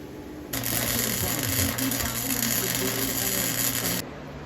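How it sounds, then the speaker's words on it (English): Welding on a custom brake rod for a mud mower, a steady close crackling buzz that starts abruptly, holds for about three and a half seconds and cuts off. "then we'll weld this together and we'll have a brake lever"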